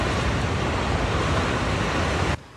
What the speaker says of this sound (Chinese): 洪环土沙、崩坑出水口，水声轰轰叫。